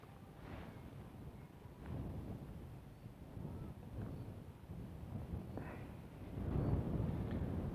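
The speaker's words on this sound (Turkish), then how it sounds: "Muhteşem bir rüzgar var." Strong wind buffets the microphone in a continuous low rumble, with gusts swelling louder toward the end, in the Manastır Valley at Güzelyurt, Aksaray, Cappadocia.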